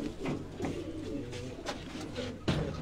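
Pigeons of the Sialkot Batera breed cooing near and fairly loud, a steady run of low throaty coos with a few louder bursts, one near the end; other birds and faint background sounds are mixed in.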